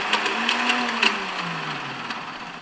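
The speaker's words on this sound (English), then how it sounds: "So what you're hearing there is the starter is spinning" The electric starter on a 1971 Honda CL350 whirs and spins freely without the clutch engaging, a close mechanical whine that slowly drops in pitch, with light rattling clicks over it.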